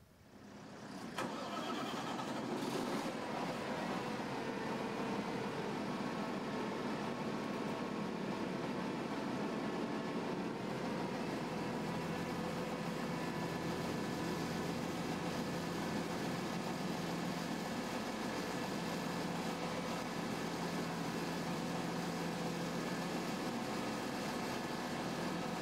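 A Hammelmann high-pressure water jetting pump runs steadily at a conference expo demo, a dense continuous engine-like roar that spins up in the first seconds and then holds constant and loud throughout.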